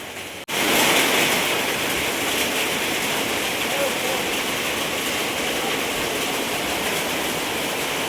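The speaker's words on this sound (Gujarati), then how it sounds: "હા ઉપર ફૂલ વરસાદ છે." Heavy rain drums on a tin sheet roof overhead, a loud, dense, unbroken roar that sets in abruptly after a brief pause and holds steady.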